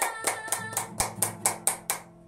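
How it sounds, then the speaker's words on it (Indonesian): Children at an online Sunday school service clap their hands in a steady rhythm of about eight sharp, evenly spaced claps, close and distinct over a faint background. "tepuk tangan"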